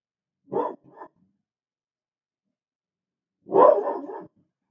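Dogs at home barking loudly and close by: a short double bark, a pause of silence, then a longer, more insistent bark burst.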